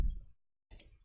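Computer mouse clicked twice during software drawing work, each a sharp, quiet, close click separated by under a second of near silence.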